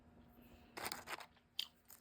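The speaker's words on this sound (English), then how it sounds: "The chips are kind of really crunchy." Crunchy tortilla chips from a southwest chicken bowl being bitten and chewed close up, several crisp crunches in quick bursts over quiet background.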